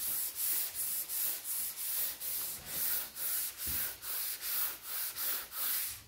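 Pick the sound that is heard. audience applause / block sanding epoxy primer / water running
block sanding epoxy primer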